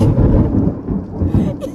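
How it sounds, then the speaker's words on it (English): Loud, close thunder from a lightning storm striking trees just outside, a continuous deep rolling rumble with heavy low-end vibration throughout, faint rain hiss above it. "The thunder rocks beneath my feet."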